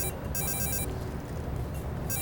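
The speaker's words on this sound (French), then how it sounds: "Oh mon Dieu, ce téléphone me casse la tête." A telephone rings indoors in repeated bursts of electronic trill separated by short gaps, loud and alone over a busy background hum.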